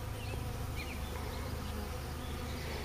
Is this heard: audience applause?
no